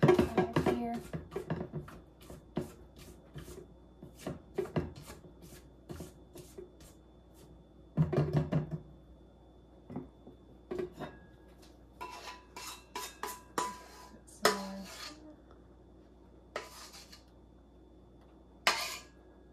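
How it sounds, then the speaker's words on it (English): A spatula scrapes strawberry cake batter out of a mixing bowl in a home kitchen, making a run of short, close scraping and clinking strokes with brief pauses between them. "I'm gonna take the spatula and get out as much as I can out of here"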